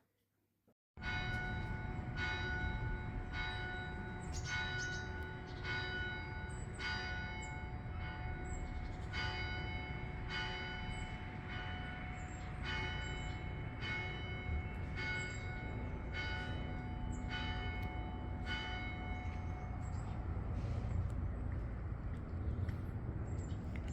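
Church bells ring from the bell tower of Holy Trinity Church in Rotherhithe, a long, steady peal of repeated bright strokes over a constant rumble of background noise, heard alone without voices.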